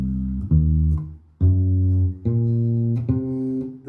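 Minor seven flat five arpeggio in C on bass guitar, with deep plucked notes sounded one at a time and held, close and steady with no talking.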